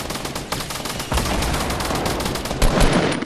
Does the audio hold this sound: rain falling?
no